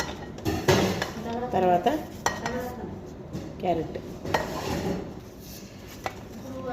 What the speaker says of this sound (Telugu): ఇది క్యారెట్ ఇలాగా సన్నగా ఇట్లా పొడుగుగా కట్ చేసుకోవాలన్నమాట.